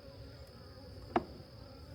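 Honey bees buzz faintly around a colony being split, a soft steady insect hum with one brief louder buzz as a bee passes close, with no talk.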